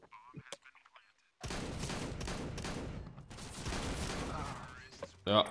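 An M249 machine gun fires in Counter-Strike: Global Offensive: two long, loud bursts of rapid automatic fire follow a quiet opening, then a short sharp burst sounds at the end.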